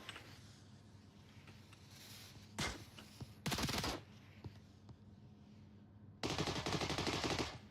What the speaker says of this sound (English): Multiple gunshots towards EJ's last lone position.